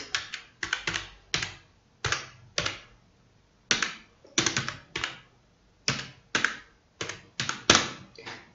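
Keys clatter on a computer keyboard in short clustered bursts separated by pauses, close and crisp, with no talking over them.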